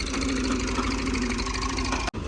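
A tractor engine idles with a trolley attached, a loud steady low chugging hum that runs continuously before cutting off abruptly near the end, no talking.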